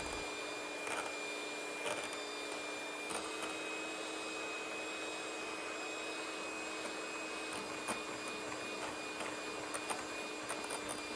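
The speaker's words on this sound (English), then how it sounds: "mix that up with a hand mixer for a little over 3 minutes, turning your heavy cream mixture into a nice thick whipped topping" A hand mixer whips heavy cream with powdered sugar into a thick topping, giving a faint, steady electric whine with a constant motor hum and small irregular clicks from the beaters.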